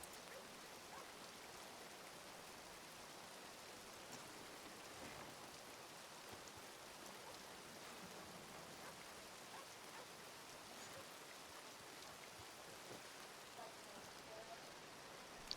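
Steady, even rain hiss fills the whole stretch inside the Red Dead Redemption game world, a constant wash of falling water and drops with no break, heard alone at moderate level.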